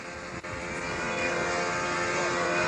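A control-line model aircraft engine runs at a flying competition, a steady high-pitched buzzing drone that holds loud and continuous after a brief dip near the start.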